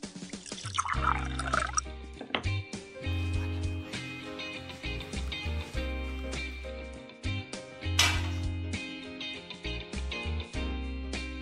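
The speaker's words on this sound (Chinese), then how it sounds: "我口渴了，去给我倒水" Water pours and drips into a glass in a PC game, a moderate trickle with scattered drops over steady background game music, no voices.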